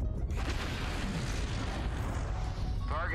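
A loud, rumbling artillery strike explosion from the MechWarrior Online video game, a sustained broadband boom that fills the whole stretch with heavy low-end roar and a rising whine near the end.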